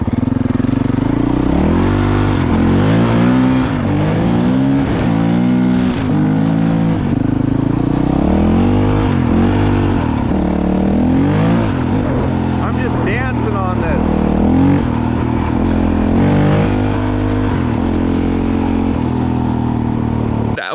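A Honda CRF450L with a modified Yoshimura RS4 exhaust rumbles and revs in repeated rising and falling swells, loud and close, with a person talking over the engine throughout.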